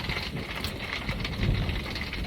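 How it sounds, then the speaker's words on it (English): Steady rain falls in a thunderstorm at an off-grid homestead, a dense hiss of drops on surfaces with low rumbling beneath, continuous and fairly close. "I just love these rainy days."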